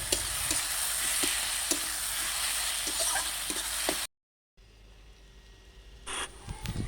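Elephant foot yam frying in a pan with salt, stirred now and then, giving a steady dense sizzle with soft scraping taps, a brief cut to silence, then quieter pan noise with a few clinks.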